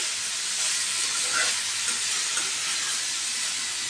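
Curry frying in a pan over a low flame gives off a steady, close sizzle with a soft hiss that holds level throughout, with no voices.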